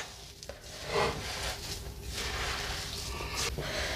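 Butternut, semolina and parmesan cracker dough is mixed by hand, with soft continuous squishing and rubbing close by. The sound is steady, with occasional light knocks, and no voices.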